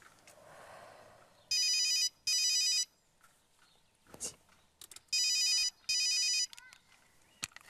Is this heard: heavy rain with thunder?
no